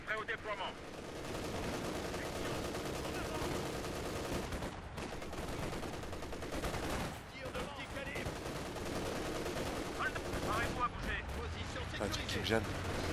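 Rapid, heavy gunfire and booming tank cannon shots in Company of Heroes 2 pound almost continuously, with voices talking over the din.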